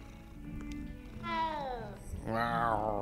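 A cat in the video game Hogwarts Legacy gives two drawn-out meows, the second louder and higher, over faint game ambience.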